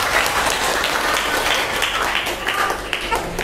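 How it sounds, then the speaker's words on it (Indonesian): Students in an Indonesian classroom applaud during a guidance and counseling lesson: dense, steady clapping that fills the room from start to finish, with faint voices mixed in. "Boleh tepuk tangan."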